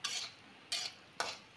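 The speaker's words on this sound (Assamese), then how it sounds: "এতিয়া মই ভাজি আছোঁ দেই, এতিয়া চাবচোন কেনেকৈ ফুটিব" Peanuts stirred in a pan while frying, three short scraping strokes spaced about half a second apart over a faint background hiss, close and quiet.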